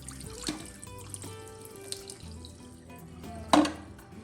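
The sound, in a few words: rinsing Tineco carpet cleaner part under running water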